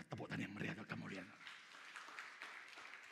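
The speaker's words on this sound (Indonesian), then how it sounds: "Tepuk tangan yang meriah dan kemuliaan." Applause from a church congregation during a sermon, a broad wash of clapping that swells briefly and settles into a steady, moderately faint patter, with a voice speaking over the start.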